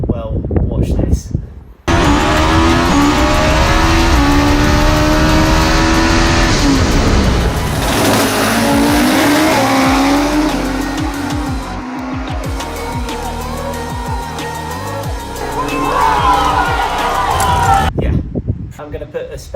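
A turbocharged two-litre Honda S2000 tuned to around 1,600 horsepower revs hard and loud after a short pause, its engine note rising and falling with tire squeal mixed in for most of the stretch before cutting off.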